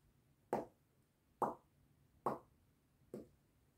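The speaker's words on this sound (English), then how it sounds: "The first way is with the lips. We call it lip pizzicato, and it goes like this." Lip pizzicato on a flute, curled lips popping against the instrument without blowing: four soft, evenly spaced percussive pops, close and quiet with no talk.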